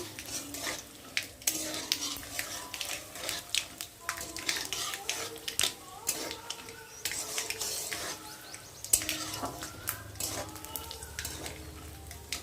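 Semolina dry-frying in a pan for a spicy sooji dish, with steady scraping and clinking of a spoon against metal as it is stirred, over a faint sizzle and no talking.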